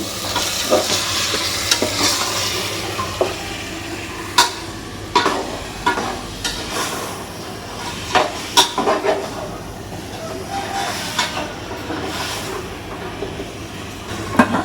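Country chicken pieces stirred and fried with onions in a pot for natukodi curry: a steady sizzle under repeated sharp scrapes and knocks of a spoon against the pan, close by, no voices.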